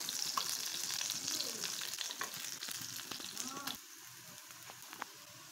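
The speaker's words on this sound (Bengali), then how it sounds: "আলুগুলো সুন্দর করে লাল লাল করে ভেজে নেব" Potatoes fry in a pan with a steady close sizzle and occasional stirring scrapes, the hiss dropping noticeably softer near the end.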